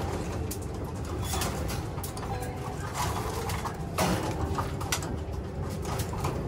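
Pigeons in a loft coo steadily while being fed, a dense chorus of soft, overlapping throaty calls, close and continuous, with faint rustling and occasional sharper knocks mixed in.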